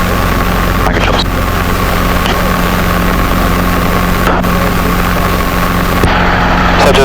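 A Robinson R22 helicopter in flight on a student check ride, the engine and rotor a loud, constant close-up drone from inside the cabin, with brief radio clicks and no clear talk.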